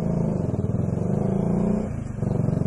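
A Bajaj Dominar 400 motorcycle fitted with an Akrapovic R11 exhaust idles and revs nearby, giving a loud, throbbing exhaust burble that dips briefly near the end before picking back up.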